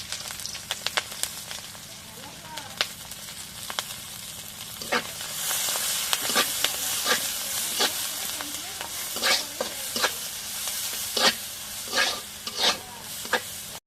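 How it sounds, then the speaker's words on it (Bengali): Onion, garlic and green chili fry in hot oil as a steady sizzle, broken by repeated sharp scraping strokes of a spoon stirring the pan, close and fairly loud with no talk. "এখন পেঁয়াজ রসুন কাঁচামরিচ ভাজা হয়ে গেছে"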